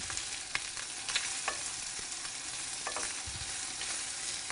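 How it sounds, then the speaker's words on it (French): Shrimp frying in a pan as they are flipped, a steady bright sizzle with a few soft stirring scrapes, close and continuous, with no talk. "Nous allons retourner donc les crevettes maintenant afin qu'elles cuisent et qu'elles dorent bien de chaque côté"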